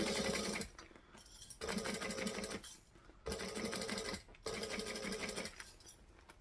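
A sewing machine stitches fabric in short, close bursts, running about a second at a time with brief quiet gaps between runs as the work is pushed along and turned.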